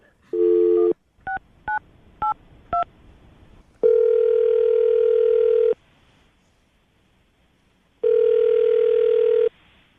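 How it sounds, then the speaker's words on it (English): Telephone dialing: a burst of dial tone, then four short separate keypad DTMF beeps, followed by two long steady tone bursts with a silent gap between, clear and close with no talk. "I'm going to dial the number right now"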